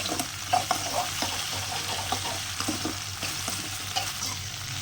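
Okra fries and sautés in oil for a tamarind curry, a constant near sizzle with stirring scrapes and soft clacks from a utensil, with no talking.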